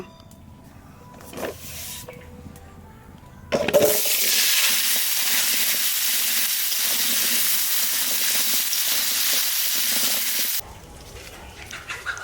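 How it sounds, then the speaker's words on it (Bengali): Potatoes frying in oil already used to fry fish give a loud, steady, hissing sizzle that starts abruptly and holds for about seven seconds, then stops. Quieter kitchen background comes before and after it. "এই মাছ ভাজা তেলের মধ্যে আলুটা একটু ভাজে নেব।"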